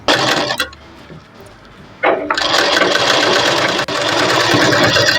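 A sewing machine stitches blouse lining in loud, steady bursts, running briefly, pausing, then running continuously close by without talk.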